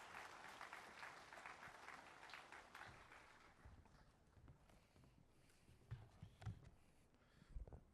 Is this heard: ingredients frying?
no